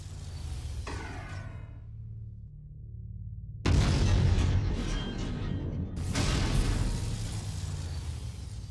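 A loud explosion bursts in the MechWarrior video game during mech combat, a booming blast that cuts off abruptly, then heavy rumbling roars and another surge of blast noise, with no talk.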